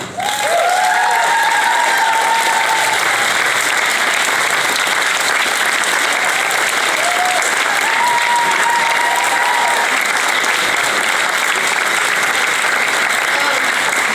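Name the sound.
audience applause for Pat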